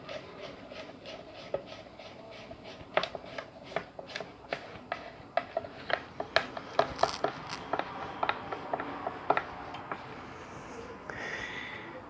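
Screws are driven to fasten a Music Man style neck onto a Strat style guitar body, a quiet, steady series of short clicking ratchet-like ticks that grow slightly louder as the screw tightens.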